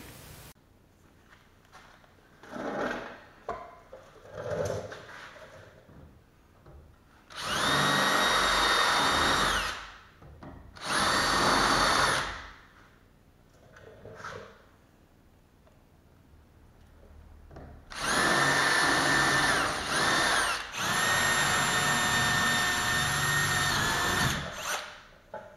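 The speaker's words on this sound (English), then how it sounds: "pop all the rivets so we can pull the deck off" A power drill bores out rivets on a boat's rub rail, with loud bursts of whining drilling, two short runs and then a longer sustained one, separated by quieter handling noises.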